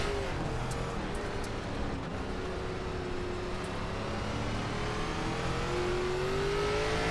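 A race car's engine in iRacing's ARCA Menards Series on the Lanier dirt track drones steadily and close, its pitch sliding down then rising as the car spins out after hitting the wall, with no talk over it.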